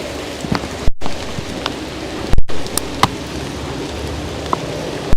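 Steady rain pours down on a homeless camp among blackened trees in Alaska, with scattered louder drops and brief thumps breaking through the constant hiss.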